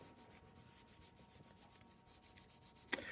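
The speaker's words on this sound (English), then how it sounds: "So just kind of start scrubbing in here." A Smith and Wesson M&P pistol scrubbed by hand with a brush, giving a steady close scratchy rubbing in quick repeated strokes, ending with a brief sharp click.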